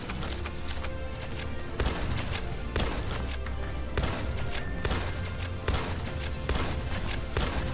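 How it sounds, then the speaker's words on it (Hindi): Rapid shotgun blasts fired again and again at a creature in the video game Palworld, a dense barrage of booming shots over a constant loud game rumble. "मैं स्पैम करने वाला हूँ इसके ऊपर शॉटगन"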